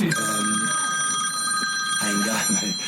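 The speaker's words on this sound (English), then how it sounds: "sorry about my phone, it's normally my keys" A mobile phone rings with a steady electronic tone held for nearly three seconds, heard close up under a man's post-match interview about a club's win, with crowd or room noise behind it.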